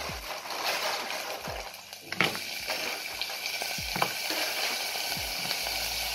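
Garlic sizzling in oil in a saucepan, a steady crackling fry with a few clinks and scrapes of a utensil stirring, no voices.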